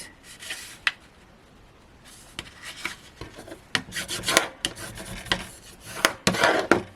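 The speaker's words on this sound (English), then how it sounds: "Burnish those down." Cardstock pieces being burnished down by hand for a Christmas gatefold card, heard as repeated close rubbing and rasping strokes in irregular bursts, growing busier toward the end, with no talking.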